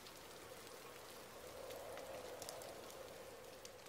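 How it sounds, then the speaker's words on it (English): Steady rain patters against a window pane in a stormy night scene of an animated bedtime story, a dense, even wash of drops with faint sharper taps, continuous and close with no voices. "Heavy winds howled through the streets that night, and raindrops pattered against the window pane."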